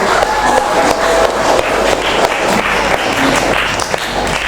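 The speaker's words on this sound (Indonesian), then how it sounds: "terima kasih, tepuk tangan" Dense, steady applause from a crowd, many hands clapping continuously with no pauses, fairly loud throughout.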